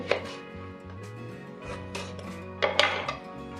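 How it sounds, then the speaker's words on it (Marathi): Fresh amla, Indian gooseberries, being cut with a knife, several irregular knocks and clinks of the blade against a board with a faint hum underneath, no speech. "या प्रकारे आपण असे आवळे साफ करून कापून घेऊ"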